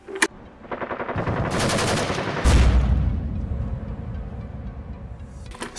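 A Specna Arms SA-46 polymer airsoft LMG replica fires a rapid full-auto burst of sharp mechanical clatter, close and loud, with a faint click before and after.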